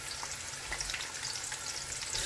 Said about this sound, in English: we fried our onions for more than 1 minute now